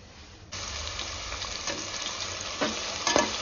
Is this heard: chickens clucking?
no